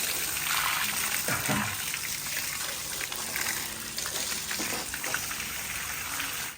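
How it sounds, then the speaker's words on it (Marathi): Water splashes and gushes in short pours over a steady background hiss, moderately close. "थोडं थोडं पाणी ते"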